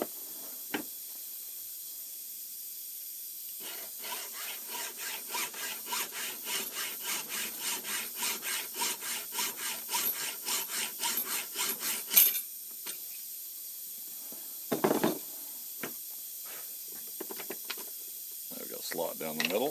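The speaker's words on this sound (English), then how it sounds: "What we'll do is just run a hacksaw down through there" A hacksaw cuts a slot in a steel tailstock quill from a Grizzly G0602 lathe, making steady rhythmic back-and-forth rasping strokes close by for about eight seconds, followed by a few scattered clicks and handling sounds.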